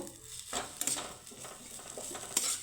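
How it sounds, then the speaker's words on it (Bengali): Boiled potatoes frying with spices in a pan, a faint sizzle under a few short bursts of spatula scraping and clinks against the pan; no talking. "আলুর সাথে মশলাটাকে মিক্স করে নিয়ে একটু নাড়িয়ে চাড়ে একটু ভেজে নেব"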